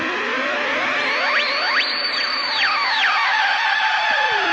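Warbling electronic tones from a modified clothes iron used as a synthesizer glide up and down in repeated sweeping swoops, a clear bright pitch bending smoothly over a steady hum.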